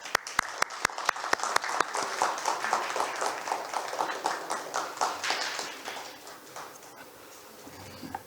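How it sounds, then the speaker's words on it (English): Dense applause from a roundtable audience welcoming the Korean Forestry Service minister. Crisp individual claps build quickly into a full, steady round, then thin out and fade over the last seconds. "Please welcome him with a round of applause."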